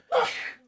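One short, sharp human sneeze, close and fairly loud, a single breathy burst lasting under half a second.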